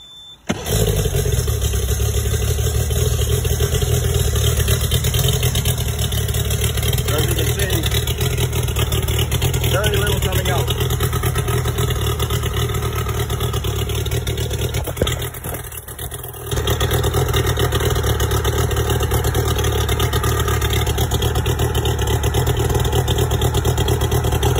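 An outboard motor starts and runs at a steady, loud drone for the whole stretch, with one brief dip midway, near and continuous.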